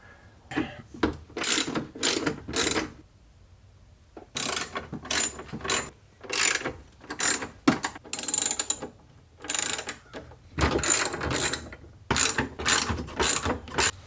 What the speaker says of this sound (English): So I'll need to loosen this as well as all of these bolts